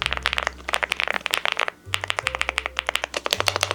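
Rapid clacky keystrokes on a mechanical keyboard, crisp and close, typed in quick bursts with a brief pause midway, no voices.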